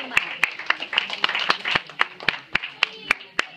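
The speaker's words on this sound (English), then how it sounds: "let's clap for the puppeteers and thank you all very much" Audience of a small children's puppet play on pollination clapping for the puppeteers, a dozen or so sharp distinct claps in uneven rhythm, fairly close, with voices talking underneath.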